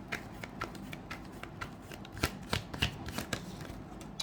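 Tarot cards being shuffled by hand, a steady riffling and sliding patter with soft rhythmic flicks running throughout, close and moderately loud with no voices.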